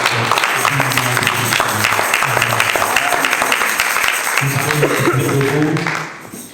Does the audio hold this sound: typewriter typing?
no